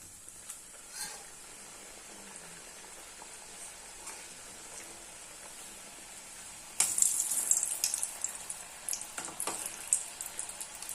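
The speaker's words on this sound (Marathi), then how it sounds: "आता आपण शंकरपाळ्या सोडून देऊयात आता इथे मंद गॅसवर आपण तळून घेऊयात" Shankarpali pastries dropped into hot oil over a low flame. A faint, quiet hiss gives way to a sudden, louder bubbling sizzle with scattered close crackles and pops that continue steadily.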